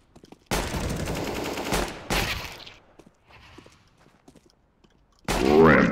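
Pistol fire in a free-for-all video game match crackles in dense bursts, first a sustained rattle of shots, then another volley, then a loud final blast after a quiet gap.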